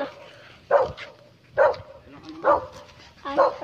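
A dog barks four times at a steady pace, moderately close, with a quiet background hum between barks.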